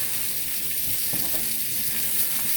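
Steady, close sizzling of country style steak frying in a hot pan, a continuous bright hiss with faint occasional scraping, no talking.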